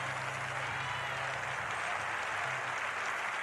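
Church congregation applauding and acclaiming the Lord, a steady, dense wash of clapping and cheering that holds at an even level throughout, with a faint low hum underneath.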